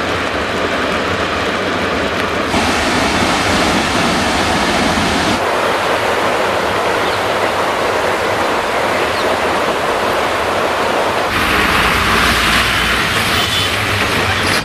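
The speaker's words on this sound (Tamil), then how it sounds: "இதனால் 2வது நாளாக பவானி ஆற்றில் வெள்ளம் கரைபுரண்டோடுகிறது." Floodwater of the swollen Bhavani river rushing and roaring loudly and continuously, a dense broadband torrent with no voices.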